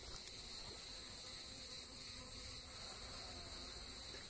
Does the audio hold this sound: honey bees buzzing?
yes